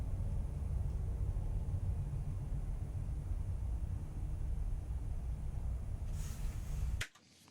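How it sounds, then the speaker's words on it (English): A passing train heard from a distance as a steady low rumble with broadband noise, holding level for about seven seconds before cutting off abruptly. "So for starters, here's the sound of the train."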